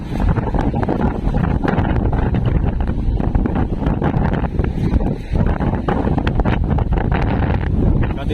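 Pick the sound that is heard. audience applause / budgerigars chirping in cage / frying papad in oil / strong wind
strong wind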